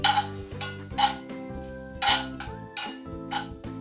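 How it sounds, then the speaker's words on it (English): Garlic and herbs are stirred into butter in a pan, the utensil clinking against the pan in a few bright, irregular knocks over steady background music. "Then toss in our herbs and mix some more."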